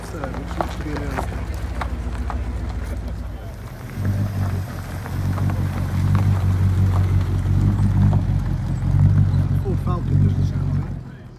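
An early car drives past at a Brooklands Easter classic car gathering, its engine rumble swelling as it approaches and fades, with crowd chatter and outdoor background noise.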